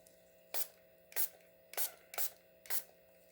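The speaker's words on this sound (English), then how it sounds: "give them a spray" Five short hissing spray bursts, evenly spaced about half a second apart, mist over freshly poured resin coasters in a fall-themed set, with a low steady hum underneath.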